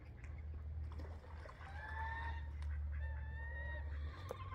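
Baby poultry chirp steadily in a tub, a run of high rising peeps over a constant low hum, fairly close, with no talking.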